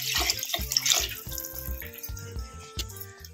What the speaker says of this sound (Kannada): ನಾನು ಒಂದು ಬಟ್ಲಿಗೆ 3 ಬಟ್ಲ ನೀರು ಹಾಕ್ತಾ